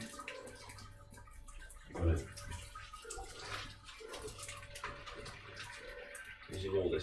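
Water running from a tap in a home brewing setup, a steady close splash with a louder burst partway through and muffled talk underneath.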